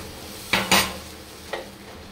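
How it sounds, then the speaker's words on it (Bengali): Water is poured into a pan of spices frying on the stove, giving a few short sizzling hisses, two close together and one more a moment later, over a quiet kitchen background with no talk. "এবার জল ঢেলে দিলাম।"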